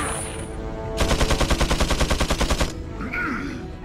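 Chain gun fire in Resident Evil 4 HD, a loud, steady, rapid burst of evenly spaced shots lasting under two seconds, with muffled game noise before and after.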